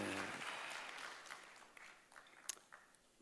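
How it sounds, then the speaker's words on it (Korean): Applause from a church congregation at a Sunday baptism service, a broad clatter of clapping that is loudest at the start and thins out over about three seconds, with a few scattered claps near the end. "박수하고"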